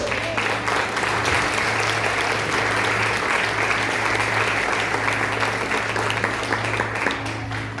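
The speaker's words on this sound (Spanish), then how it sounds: "¿Alguien puede aplaudir a nuestro Dios?" A church congregation applauds for God during a Spanish-language sermon, a steady, dense wash of clapping that holds loud and even throughout, with a low hum underneath.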